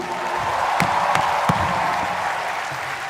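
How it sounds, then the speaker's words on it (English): A crowd at a comedy roast breaks into applause, a dense spread of clapping with a few sharper individual claps standing out, sustained and fairly loud throughout. "please give a huge fucking round of applause for Ranveer Singh and Arjun Kapoor"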